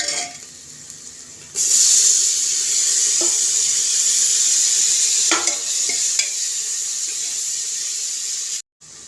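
Tomatoes dropped into a hot pan of oil while cooking tomato rice, bursting into a loud, steady sizzle that carries on with a few clicks and stirring scrapes before cutting out.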